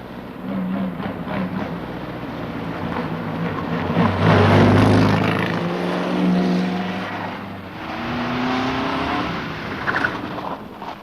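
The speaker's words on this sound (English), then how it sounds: "A 1936 Bugatti, and believe me, it goes" A 1936 Bugatti race car at the Brooklands circuit, its engine roaring and swelling as it approaches and passes, with pitch shifting through the gears before easing and picking up again, loud and continuous.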